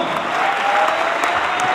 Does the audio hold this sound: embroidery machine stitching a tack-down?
no